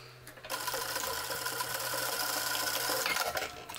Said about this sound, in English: take one cuff, fold it in half and just do a short seam here, 1 centimeter for seam allowance.